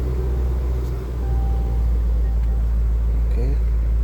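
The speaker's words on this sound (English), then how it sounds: "Start the car." A 2020 Range Rover Sport SVR idles steadily after being started, its low engine rumble continuous and close, with a brief dip as it catches and a voice speaking over it.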